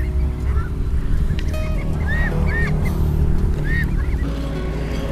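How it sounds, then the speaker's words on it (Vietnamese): A large flock of over 2,000 ducks being herded home across a rural field, with several honking, quacking calls rising over a steady outdoor background rumble. "Phía bên kia cánh đồng thì anh bạn kia cũng tiếp tục lùa đàn vịt về."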